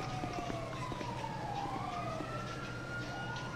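A video game ambulance siren in GTA 5 wails, sweeping up and down continuously, fairly loud and steady, with a low rumble underneath and no talking.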